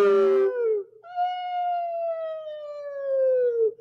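A human voice imitating a fire truck siren, one long wavering wail that breaks briefly, then rises and slowly falls in a sustained sliding tone, loud and close.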